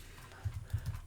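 Soft, close clicking of keys on a computer keyboard as a conda command is typed, a short quiet burst of about half a dozen taps.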